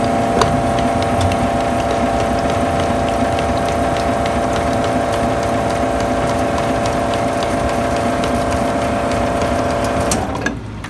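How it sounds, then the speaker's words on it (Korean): A café espresso machine runs a discard extraction, its pump holding a steady mechanical drone with a faint ratcheting buzz for about ten seconds before it cuts off with a soft click. "확실하게 한 번 더 폐기 추출을 하시고"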